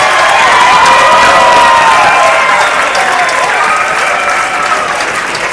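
A big crowd bursts into sustained, dense applause, with some cheering and shouts mixed in, loud and steady throughout before tapering off slightly at the end.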